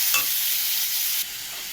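Chopped onion, potato, capsicum and slit green chillies frying in oil in a pan, a brief bright sizzle that drops abruptly quieter just before the end.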